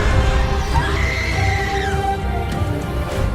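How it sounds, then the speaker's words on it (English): In a film soundtrack, a horse gives a long, loud whinny over a dense rumbling bed of music and ambience, with the whinny rising and falling for about a second, and no dialogue. "Those are hooves."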